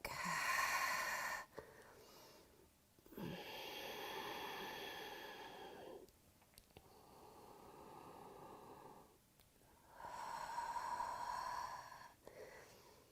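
Slow, soft breaths alternate with quiet pauses during a yoga forward fold, several long airy inhales and exhales close to the mic, hissy and gentle, with no voices.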